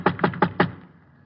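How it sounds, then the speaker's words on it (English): Four sharp knocks on the door of an old brownstone, evenly spaced in quick succession, close and distinct, followed by a brief quiet room tail. "I went up and knocked on his door."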